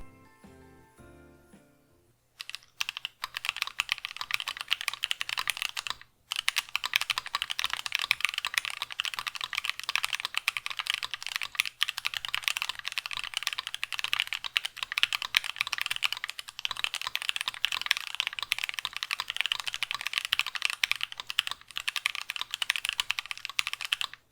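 Steady, fast typing on a mechanical keyboard with Beeswax linear switches, a dense run of smooth, muted keystrokes continuing for over twenty seconds after a brief quiet start.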